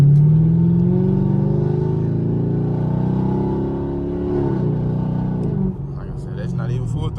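A 6th-generation Chevrolet Camaro SS V8 pulls hard at full throttle, a loud, steady deep engine roar that climbs in pitch, eases briefly, then shifts and continues, heard close from inside the car.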